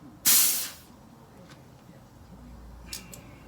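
A short burst of air hisses from an air compressor hose during car brake caliper work, loud and close for about half a second, then fades into quiet room noise with a faint second puff near the end.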